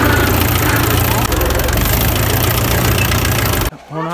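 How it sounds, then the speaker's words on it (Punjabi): A Mahindra 444 tractor diesel engine idles loud and close with a steady, rough chugging, then cuts off abruptly near the end, after which a voice is heard. "ਫਿਲਹਾਲ ਹੁਣ ਆਪਾਂ ਕਰਦੇ ਹਾਂ ਟਰੈਕਟਰ ਨੂੰ ਸਟਾਰਟ"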